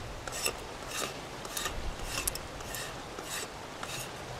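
A blade scrapes the wet outer layer off wood in a forest camp, making repeated rasping strokes about every half second, close and steady with no talking.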